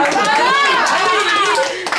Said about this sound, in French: Et Alexis, il a les mêmes applaudissements